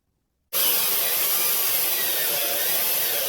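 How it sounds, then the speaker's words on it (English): Battery drill with low power boring holes through wood stock for a model RC gaff pilot cutter, a steady, close, hissing grind starting abruptly and holding level for about three seconds with no talking. "So now I'll remove the stock and the fixtures and drill those"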